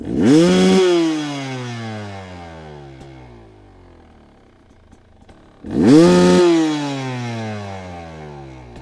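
A rotor spins down on its own after each of two loud bursts of power, the revving tone sliding downward and fading steadily, with a quiet pause between the bursts.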